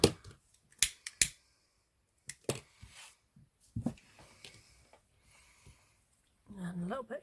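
Scissors snip ribbon during a ribbon dress sculpture craft, giving a few sharp, close clicks spaced out over several seconds, with quiet handling noises between and a brief voice at the end.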